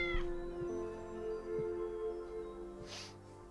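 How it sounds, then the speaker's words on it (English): A cat meows in the Tales of the Neon Sea video game, with a short cry near the start and another louder one toward the end over a steady, quiet electronic hum. "Was this your cat or was this mine?"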